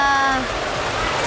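Heavy rain pours down in Phuket near the Voyager of the Seas cruise ship, a loud, dense, steady hiss close by, with a brief tonal sound at the start.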